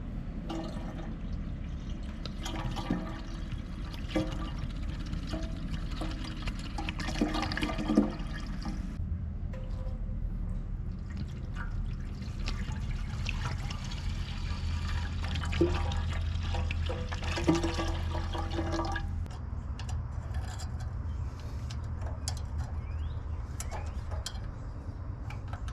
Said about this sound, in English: we're gonna go ahead and pour a bunch of white vinegar in here